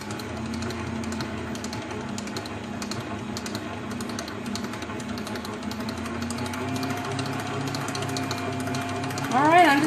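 An electric mixer whisks cake batter for a Hershey bar cake with a steady whirring drone and light rattling against the bowl, rising slightly near the end, with a voice faintly present.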